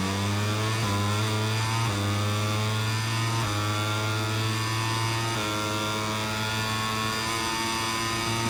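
Loud motorcycle engine from a MotoGP racing game, held high and steady with repeated rising and falling rev sweeps as the throttle eases and picks up again, no voices.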